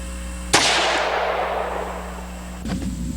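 A single sharp .22 caliber rifle shot rings out from a bench rest setup, its crack decaying into a long reverberant tail, followed by a faint second report near the end.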